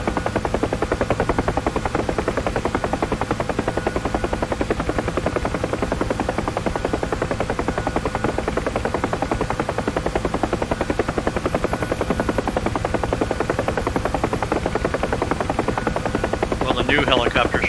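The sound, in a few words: helicopter in a video game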